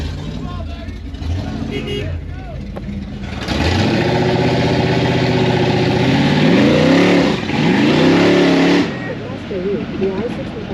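A hot rod with a Ford 9-inch rear end revs hard for a burnout, its engine roaring loud and close for several seconds before easing off, with voices talking over it before and after.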